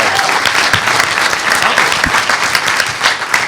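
Dense, sustained applause from a large audience at a hacker conference panel, loud and continuous throughout with no pauses.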